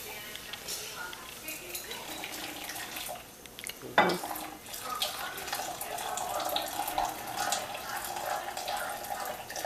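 Boiling water poured into a measuring cup while making pretzels, a splashing trickle with a sharp clink of glassware partway through, amid kitchen clatter and people talking.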